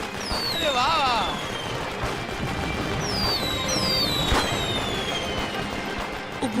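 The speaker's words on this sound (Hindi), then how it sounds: "ये पटाखे कौन चला रहा है?" Firecrackers and whistling fireworks going off at a wedding, sharp pops and rising whistles over a busy, noisy crowd, with people talking throughout.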